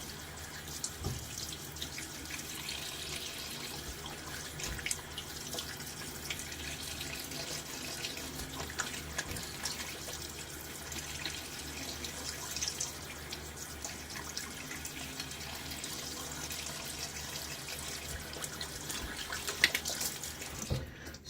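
A Golden Nib 24 shaving brush is rinsed under a running tap. Water flows steadily into a sink for about twenty seconds with faint splashing and dripping, fairly quiet, and no one speaks.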